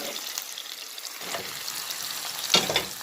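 Corned beef dropped into a hot frying pan sizzles in soft hissing bursts, a sharper crackle near the end, close and moderately loud with no talking.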